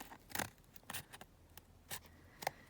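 Scissors cutting across a book page for a collage, several separate crisp snips close by with quiet pauses between them.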